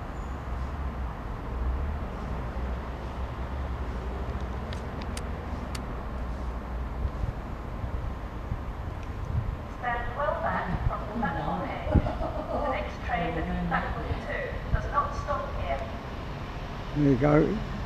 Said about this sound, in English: you get lovely effects of the trains coming round the double curve